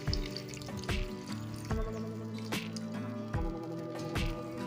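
Water goes into a pan of mustard pabda fish curry with a steady series of wet splashing drips, near and fairly quiet, over a constant low hum.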